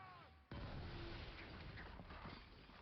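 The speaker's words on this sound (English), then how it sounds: "Volley fire, Captain!" Ship cannon volley in the pirate naval combat game Skull and Bones: a sudden heavy blast that rolls into a sustained booming roar of artillery fire, loud and dense, lasting nearly three seconds.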